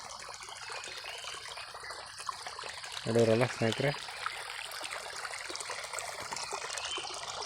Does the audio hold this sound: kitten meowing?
no